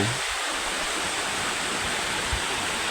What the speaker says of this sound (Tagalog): Kita nyo, tabing ilog o.